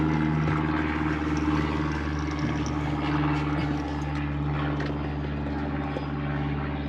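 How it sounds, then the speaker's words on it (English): A continuous low droning roar of aircraft engines passes overhead, steady and moderately loud throughout, with no other distinct sounds. "these planes keep coming over, making a white noise."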